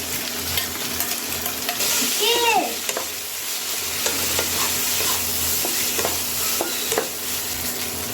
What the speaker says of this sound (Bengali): ভাজা হয়ে গেছে, এবার নুডলসটাকে দিয়ে দেবো।